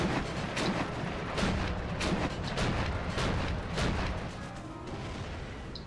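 A Flak 88 gun in Steel Division 2 battle, with repeated booming shots and rumbling blasts at a moderate distance in a dense, noisy wartime soundscape, and no voices.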